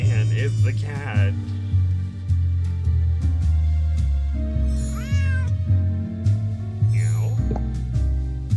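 Cat meowing in the Nancy Drew video game Dossier: Lights, Camera, Curses, several drawn-out meows over loud game music, with a person talking at times.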